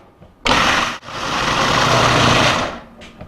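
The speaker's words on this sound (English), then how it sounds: "You can see I brought up the big guns, my big KitchenAid for this, because this is a lot of pulp we got going here" A large KitchenAid mixer switches on abruptly, stutters once, then churns a thick load of pulp in a loud, steady whir close by before winding down.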